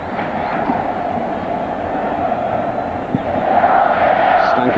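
Football stadium crowd celebrating at a 1998 Yugoslavia versus Brazil friendly, a loud, continuous distant roar of many voices that swells toward the end.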